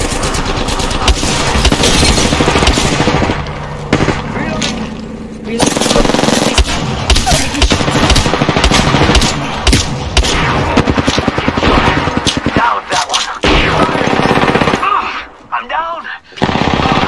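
Rapid bursts of automatic gunfire and booming blasts from the battle-royale shooter Apex Legends, loud and nearly continuous, with a few brief lulls near the end.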